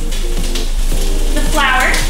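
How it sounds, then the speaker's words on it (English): A tablespoon of butter sizzles steadily in a hot pan on high heat, a loud continuous frying hiss with faint utensil scrapes underneath, no talking. "now I'm gonna go ahead and add 1 tablespoon of butter"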